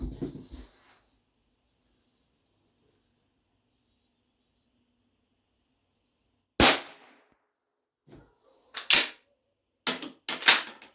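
Winchester 1890 rifle in .22 WRF firing, one sharp crack after a long quiet stretch, followed by several short metallic clicks and clacks of the action.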